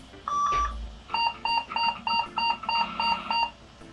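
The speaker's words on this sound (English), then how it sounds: "we get lots of beeps, so many beeps, and nothing coming on the monitor either" A long tone, then a rapid run of about eight short, evenly spaced electronic beeps from an old McIntyre 486 computer at startup, an error code with no display, close and clear.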